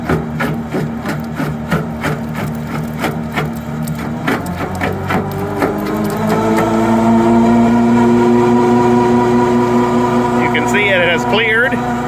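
New Holland skid steer at three-quarter throttle driving a jaw crusher, a loud steady engine drone that rises and settles into a sustained hum, with some tonal squeal and rattle late on.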